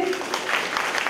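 Audience at a jaw harp concert in Kazakhstan claps in a short burst of applause, fairly close, with a voice speaking over it at the start.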